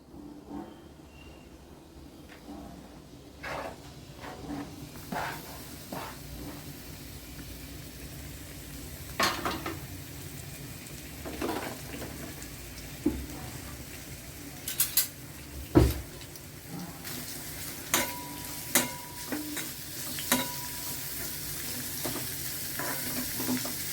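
Frying in an oil-filled pan, heard as a soft continuous sizzle broken by sharp clinks and scrapes of a utensil against the pan, a few louder knocks near the middle, with no talking.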